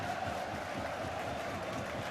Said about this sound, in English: and now listen to that crowd.